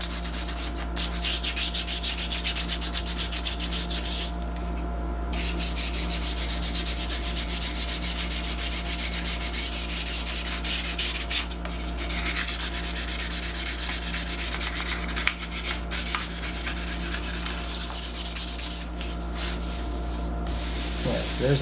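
Sanding over wooden filler made of sawdust and glue on a hot rod build, a steady continuous rasping scrub with brief pauses, close and loud throughout.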